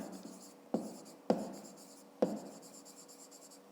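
Pen writing numbers on a paper worksheet for a fifth-grade math exercise, close and quiet scratchy strokes separated by several sharp taps as the pen lifts and lands, no speech.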